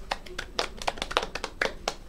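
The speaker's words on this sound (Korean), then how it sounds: "박수" Several quick, sharp hand claps in an irregular burst, fairly close, like a small group briefly applauding.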